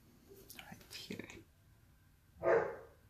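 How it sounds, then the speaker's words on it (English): A small dog gives a single short bark indoors, fairly close, following soft whispered speech and faint rustling. "Oh, you hear my doggy? Because my doggy heard another doggy outside."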